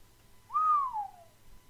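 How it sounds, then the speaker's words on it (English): A single drawn-out whistle pushed between a man's teeth, rising briefly then gliding downward and fading over about a second, clear and close in a quiet room. "he sat back in his chair and allowed a whistle to escape from between his teeth"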